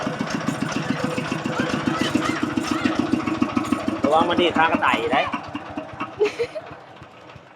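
A small tractor on a rice farm in Savannakhet, Laos, chugs with a rhythmic, pulsing single-cylinder beat up close, while someone talks over it.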